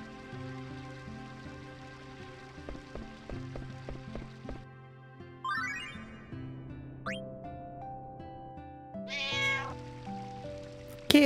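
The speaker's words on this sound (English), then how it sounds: "Kitty cat." Cat meowing in Final Fantasy IX, heard as a few soft, short meows amid the game's melodic background music and chiming effects, moderately close and clear without any talking.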